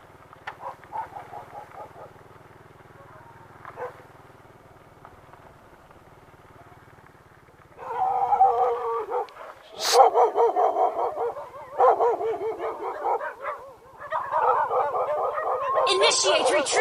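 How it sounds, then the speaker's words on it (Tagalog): Many dogs bark together, loud and close, in an overlapping burst of barks and yips that starts partway through and keeps going, with people talking quietly before and under it. "Dami aso dito."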